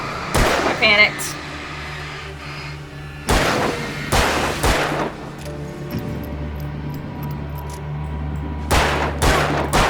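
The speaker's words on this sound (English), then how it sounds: "We're just using flare guns." Flare guns fired in the Alan Wake video game, several sharp loud shots spaced irregularly over a low game ambience, with people talking in between.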